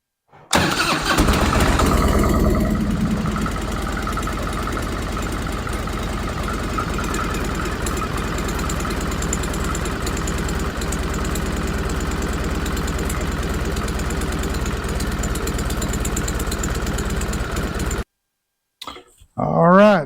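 An Evolution motorcycle engine fitted with a big bore kit and cam upgrade starts and runs, a loud, steady mid-pitched idle with a ticking edge lasting most of the time before cutting off abruptly, followed by brief talk.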